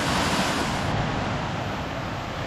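A large volume of water rushes beneath a highway pipe in a steady, dense roar, close and unbroken, with no voices over it.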